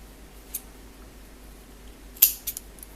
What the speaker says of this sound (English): just hide the tail end on the back, and then trim the excess